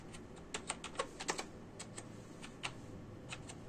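Keys tapped on a computer keyboard while entering a search for creating a Payoneer account, a quick run of distinct clicks with short pauses, close and fairly quiet, with no talking.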